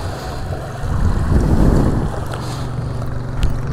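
Strong water current rushes along a dike at Manila Bay, a loud, close churning and splashing roar mixed with heavy wind buffeting, swelling midway and then easing, with no speech.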